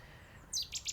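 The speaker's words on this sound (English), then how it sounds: "Oh, there's a bird over there." A bird chirps outdoors, giving a few quick, high tweets in the second half after a quiet stretch of faint background. The chirps are fairly soft and distant.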